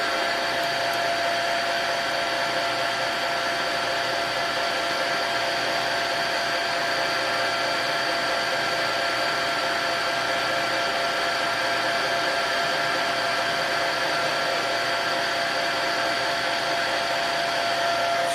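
A lathe runs steadily while drilling a centre hole in a workpiece, giving a constant, fairly loud motor drone and whine that holds unbroken throughout.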